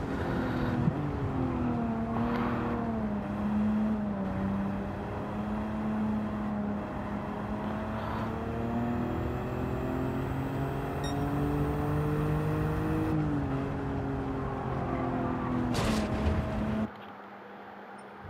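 Car driving in the video game Gran Turismo 7, a sustained engine drone whose pitch rises and falls with shifts and acceleration, steady and close, ending with a sudden drop near the end.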